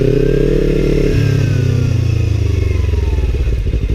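A Kawasaki Ninja 300 motorcycle engine runs close up, a loud buzzing drone that drops in pitch after a second, then settles into a pulsing, throbbing putter as the bike moves.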